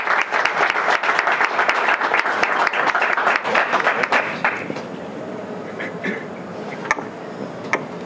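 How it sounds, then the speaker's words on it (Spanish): Audience applause at an MSX anniversary talk during Euskal Encounter 21, dense clapping for about four and a half seconds that thins to a few scattered claps. "Un aplauso para ellos."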